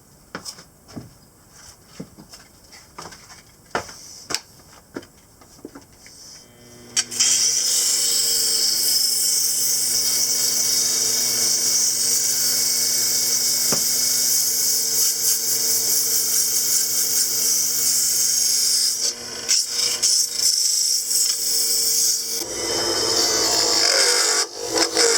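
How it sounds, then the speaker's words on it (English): A wood-turned gift piece spinning on a lathe while sandpaper is held against it, a loud steady rasping hiss that starts after several seconds of light clicks and handling and continues almost unbroken to the end. "I think sandpaper is going to finish it off."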